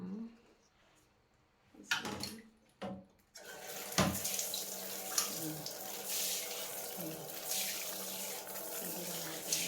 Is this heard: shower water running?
yes